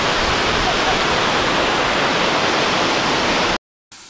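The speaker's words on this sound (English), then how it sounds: "the last bit of the tiny waterfall right there" A small waterfall on the Elidir Trail in the Brecon Beacons gives a steady, dense rush of falling water, loud and close, that cuts off abruptly near the end before resuming briefly.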